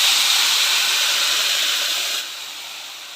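Water mixed with kudampuli tamarind and masala is poured onto sizzling onion, garlic and ginger in a pan for a fish curry. A loud close hiss flares up at once and steadily fades, with no talking.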